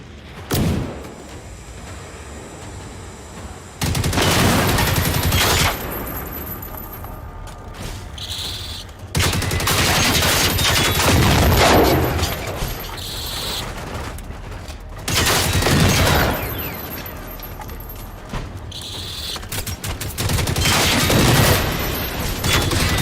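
Repeated gunfire bursts in the video game Generation Zero, loud volleys of shots and booms in several clusters over a steady mechanical background, with no talk.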